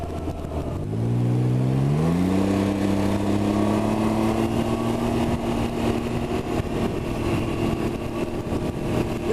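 A 2020 Can-Am Ryker 900 ACE three-wheel motorcycle revs up sharply and accelerates hard, its engine pitch climbing and then holding a steady, loud drone nearby.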